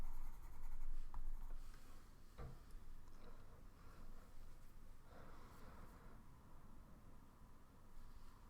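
Soft, continuous scratching of colored pencil strokes across paper, quiet and intimate, with an occasional small tap and faint breathing in the background.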